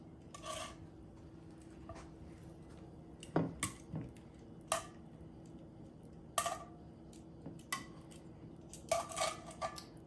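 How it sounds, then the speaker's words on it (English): Asparagus spears set into a cast iron pan, giving quiet scattered clinks and scrapes against the metal, a few soft taps spaced irregularly over a low background hum. "We're going to add some beautiful asparagus."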